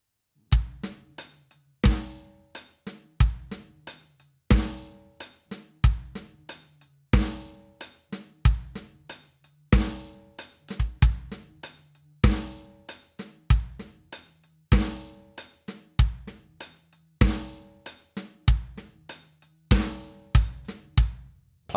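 A full drum kit plays a groove at a slow tempo, with kick, hi-hat and snare locked in a repeating pattern of crisp, close hits and no talking over it.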